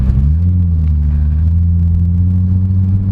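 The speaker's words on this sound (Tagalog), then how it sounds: "I love the sound of this V6." A 2015 Hyundai Genesis Coupe with a 3.8L V6 and drift exhaust drones while driving, a loud, steady low engine rumble with a slight rise in pitch, heard from inside the car without talk.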